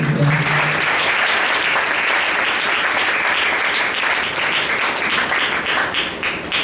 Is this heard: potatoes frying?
no